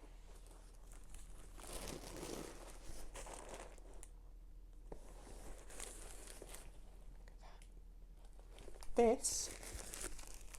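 Gold tissue paper crinkles and rustles in bursts as a gift is unwrapped at a craft-video Christmas present opening, with someone talking softly over the handling noise.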